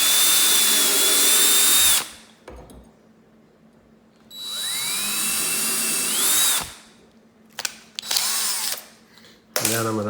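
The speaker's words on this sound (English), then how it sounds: "I'm going to drill 2 holes, pilot holes," Power drill boring pilot holes for hinge screws while hanging French doors, two loud whining bursts of a couple of seconds each, then short clicks and handling noises in between.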